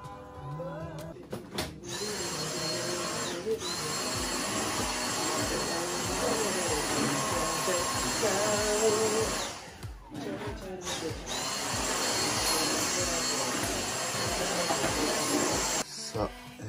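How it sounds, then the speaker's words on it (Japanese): A household vacuum cleaner runs with a loud, steady whine and hiss for a long stretch, dropping off briefly a few times as it is moved around the room. "ホコリを取って掃除機をかける。"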